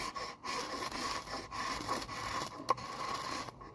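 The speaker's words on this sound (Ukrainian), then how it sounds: "Потім берете своє кресало з цей стрижень і робите ось так." A ferrocerium fire-starter rod scraped with its striker gives a close, rough rasping scrape that runs steadily for a few seconds, with short breaks and a couple of sharper flicks.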